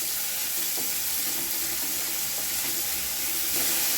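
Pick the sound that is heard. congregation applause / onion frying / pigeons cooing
onion frying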